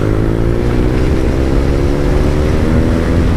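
A BMW R9T motorcycle engine pulls hard with the throttle held open, a loud, steady, close roar whose pitch climbs gradually as it accelerates, with rushing wind mixed in.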